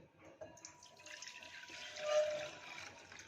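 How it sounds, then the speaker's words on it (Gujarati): Cow's milk pours into a bowl and then a pot, giving a soft, close liquid trickle and splash that swells toward the middle of the pour and trails off, with no talking. "વાટકીમાં એક ચમચો દૂધ નાખીશું બીજું બધું આપણે આ પોટમાં ઉમેરીશું"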